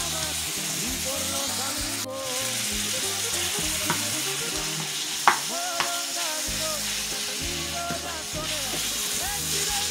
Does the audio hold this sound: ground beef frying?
yes